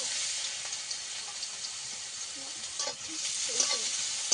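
Whole cumin seeds sizzling in hot oil in a wok, a steady bright hiss and crackle throughout with faint scraping of a stirring spoon near the end.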